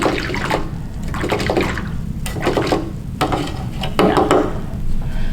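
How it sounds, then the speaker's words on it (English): A paintbrush is rinsed in a cup of water during a painting session on a small canvas, giving several short, close swishing and sloshing bursts with brief pauses between them. "I'm gonna clean my brush."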